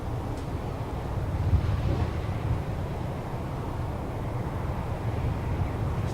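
Steady wind buffets the microphone on an outdoor disc golf course during a 2002 Gainesville, Florida tournament, a continuous low rumbling roar with slight gusts and no talk.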